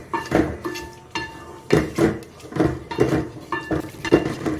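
A spoon stirs yogurt into masala in a metal pan over medium flame, giving steady scraping and clinking strokes in a rough repeating rhythm, close and fairly loud with no talking.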